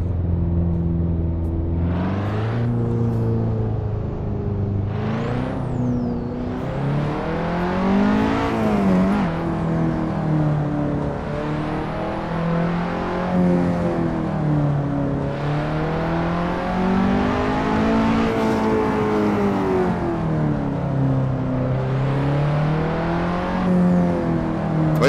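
Engine of a car lapping the Faveyrol circuit in a racing video game, droning steadily with repeated rises and falls in pitch as it accelerates and shifts, loud and continuous with no talk.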